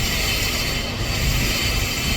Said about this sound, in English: Basically, technically they call it disc skimming, and some people call it disc turning as well.